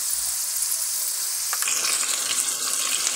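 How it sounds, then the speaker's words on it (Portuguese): Caramelized chicken frying in a pan: a continuous close sizzle that grows brighter and more crackling about halfway through, with no voices. "Vamos deixar ela fritar um pouco."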